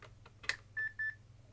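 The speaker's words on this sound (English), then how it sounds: "You can hear it kind of has a Roger beep" A vintage early laptop powering on gives two short, clean electronic beeps in quick succession after a small click, heard up close in a quiet room.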